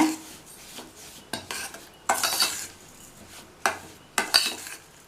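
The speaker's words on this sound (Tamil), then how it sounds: "நல்லா மிக்ஸ் பண்ணி விட்டுறலாம்" A spoon scraping and stirring semolina pakoda batter made with unroasted rava in a bowl, in several separate bursts of gritty, scraping strokes with short pauses between them.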